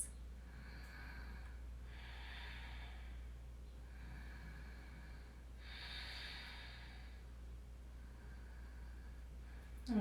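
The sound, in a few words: deep breathing during yoga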